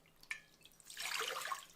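Water poured into a mixing bowl for pizza dough: a light drip, then a steady splashing pour lasting about a second, close and fairly quiet, with no talk.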